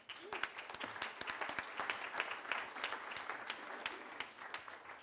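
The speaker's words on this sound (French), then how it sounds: "Vous pouvez l'applaudir encore plus fort, s'il vous plaît." Audience applause after a talk at an IT and climate conference, a continuous crackle of many hands clapping, faint and distant, with no talk over it.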